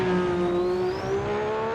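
A classic Lotus Formula 1 car in Assetto Corsa, its engine holding a loud, steady high-revving drone with a slowly rising whine layered over it, close and continuous throughout.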